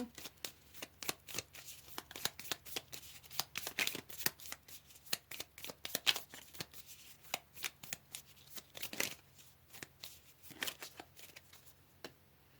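Tarot cards being shuffled in a steady run of crisp, papery riffles and slaps, close and fairly quiet against a faint background hum, with no voices.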